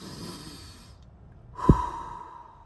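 A single deep, audible breath drawn in and let out by a mountain biker recovering from pneumonia, fairly close, with quiet room noise before and after.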